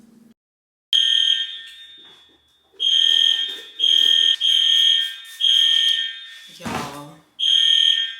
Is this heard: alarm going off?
yes